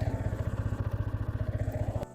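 A 155 cc motorcycle being ridden gives a steady, rhythmic engine thrum with regular low pulses, close and fairly loud. It holds an even pace and cuts off abruptly near the end.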